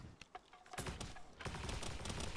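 Rapid fire from the Overheat rifle in Palworld's Tides of Terraria update: sparse early shots build into a dense, loud, continuous stream of overlapping gunfire bursts.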